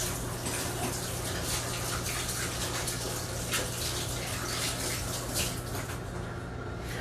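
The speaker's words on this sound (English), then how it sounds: "let me wash my hands real quick." Tap water runs steadily in a kitchen sink as hands are washed during a chicken wings cooking show, a continuous close rushing splash with a low hum beneath and no talk.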